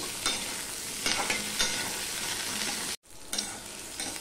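Eggplant pieces frying in hot oil in a Bengali fish curry kitchen, a steady close sizzle with periodic scraping stirs and a brief cut of silence near the end.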